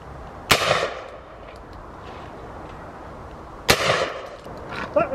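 Two loud, sharp shotgun blasts several seconds apart, firing game cartridges and then clay cartridges outdoors, each with a short ringing decay and a hint of a third at the end.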